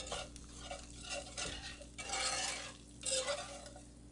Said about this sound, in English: I like to just sprinkle a little bit of it in and whisk it around